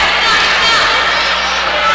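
Indoor crowd at a women's college volleyball match between Rocky Mountain College and University of Alaska Anchorage, a loud, steady wash of chatter and cheering filling the gym without a break.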